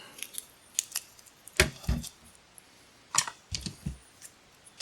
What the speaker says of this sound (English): I'll just tape it right here with this VHB tape.